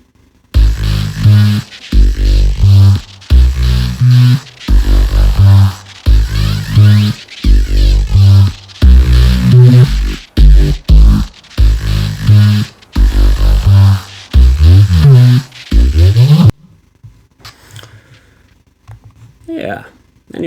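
Synth bass with full added harmonic distortion plays as a loud, dense, gritty riff in choppy rhythmic phrases, ending in a falling sweep and then near silence.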